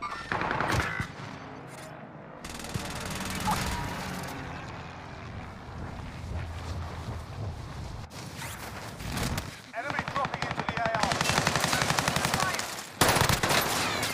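Rapid bursts of automatic gunfire in the video game Call of Duty: Warzone Pacific, Rebirth Island, crackle repeatedly, with short gaps between volleys and a few heavier shots near the end.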